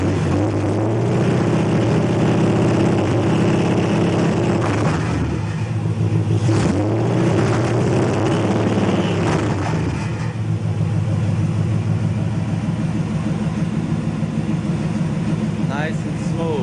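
A 1974 Chevrolet Nova's big-block 454 V8 running through open headers idles with a loud, steady rumble close by, swelling into a rev partway through before settling back to a smooth idle.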